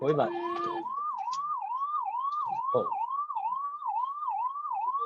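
A wailing siren rises and falls in steady repeated cycles, loud and continuous, with a brief burst of other noise at the start.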